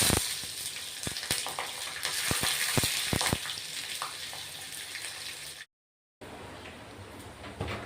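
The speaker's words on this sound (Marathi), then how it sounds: "तेल गरम झालेलं आहे मोहरी टाकतोय कढीपत्ता आणि मिरच्या टाकतोय" Mustard seeds, curry leaves and chillies sizzle in hot oil for a tempering, a loud crackling spatter with sharp popping bursts early on, a brief silent cut, then a steadier hiss.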